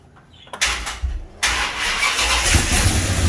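A rebuilt engine in a 1936 Plymouth Coupe cranks over and catches, then settles into a loud, steady close-range running rumble after a couple of brief starter bursts.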